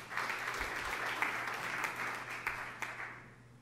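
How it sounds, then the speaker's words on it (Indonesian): Congregation applauding during a church service, a steady wash of many hands clapping at moderate level with a few sharper individual claps standing out, fading slightly toward the end. "Tepuk tangan yang meriah."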